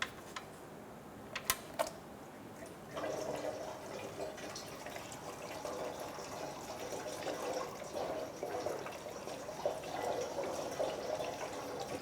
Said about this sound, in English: So while that oil is draining